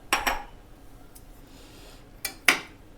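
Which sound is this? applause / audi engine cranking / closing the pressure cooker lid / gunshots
closing the pressure cooker lid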